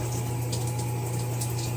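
Shower water running steadily over a person's head, a continuous close hiss and splash with a low hum underneath, no talking.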